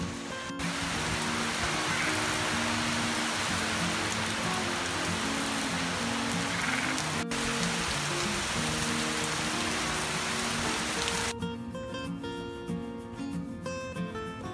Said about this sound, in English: it started raining, and I wanted you to see just how hard it can rain in South Florida